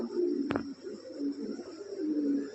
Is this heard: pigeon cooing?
yes